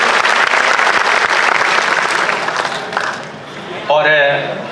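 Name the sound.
audience applause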